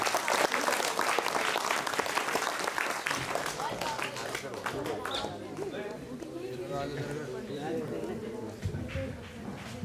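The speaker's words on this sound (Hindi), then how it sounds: "जोरदार तालियां सभी को।" Loud applause from an audience at a Hindi poetry gathering held at a government senior secondary school. Dense clapping fills the opening, then fades under someone speaking.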